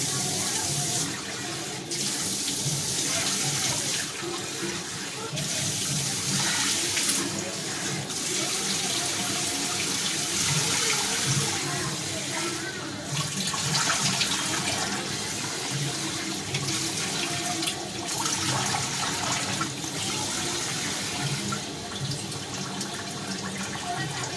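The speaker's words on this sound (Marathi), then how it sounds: "दोन तीन पाणी धुवून घेऊया" Water runs steadily from a tap into a bowl, with sloshing and swishing as basmati rice is rubbed and rinsed, fairly close and continuous.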